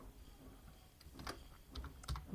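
Keys clack on a computer keyboard while an SQL query is typed, a soft, irregular run of taps that is faint and close, with a small cluster of keystrokes toward the end.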